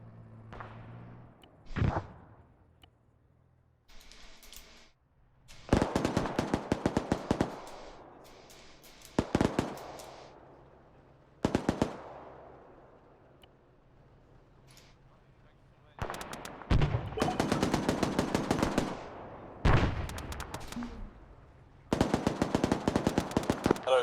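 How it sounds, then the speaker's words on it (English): Bursts of automatic gunfire in the Arma 3 combat game: long rapid rattling volleys separated by short pauses, some loud and close, others quieter and sharper, with occasional voices between the bursts. "I'm hearing some gunfire"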